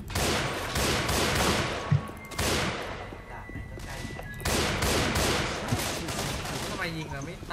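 Repeated bursts of gunfire from several guns during a Left 4 Dead 2 zombie fight, loud and rapid with short pauses between volleys, with a brief voice near the end.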